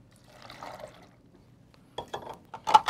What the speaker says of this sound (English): I'm only going to do 1 cup of water this time